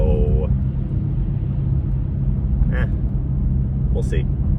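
A car driving along a city street, heard from inside as a steady low road rumble with a couple of brief high chimes.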